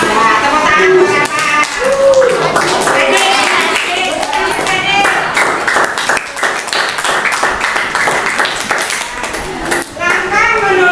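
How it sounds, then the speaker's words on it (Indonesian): A classroom of children claps for their teacher during an Indonesian-language lesson, a dense burst of close clapping mixed with children's voices throughout. "tepuk tangan buat Bapak"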